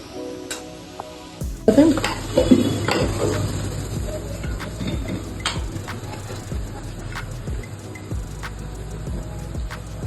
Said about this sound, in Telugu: టమాటాలు, ఉల్లిగడ్డ ఇవన్నీ ఇట్లా మంచిగా ఫ్రై కావాలి.